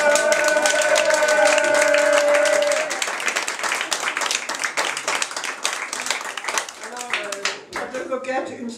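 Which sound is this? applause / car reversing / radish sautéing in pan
applause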